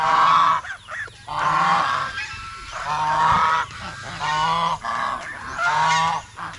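Farm waterfowl, ducks kept alongside turkeys, give loud, close honking calls in repeated overlapping bursts, harsh and nasal, with short gaps between the clusters.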